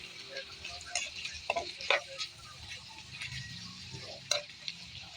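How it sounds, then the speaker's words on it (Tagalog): Sitaw (string beans) stirred in a pan as they cook for adobong sitaw, with a few sharp scraping strokes and a soft sizzle beneath, close and moderately quiet. "Ito lang siyang halo-haloin lang para hindi siya"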